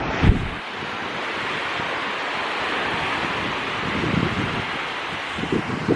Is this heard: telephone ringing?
no